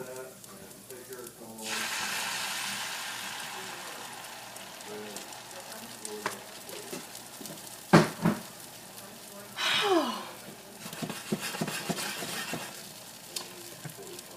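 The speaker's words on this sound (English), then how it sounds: "I'm going to go ahead and add our eggs straight from my batter bowl" Eggs poured from a batter bowl into an oiled pan for an omelet, sizzling and hissing steadily for several seconds, with a few clinks and scrapes of utensils partway through.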